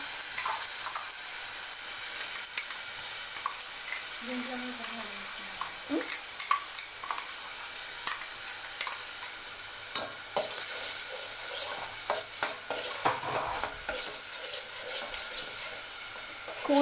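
A paste of coriander seeds, ginger and garlic fries in a pan for fish curry, giving a steady close sizzle with occasional stirring scrapes and clinks throughout.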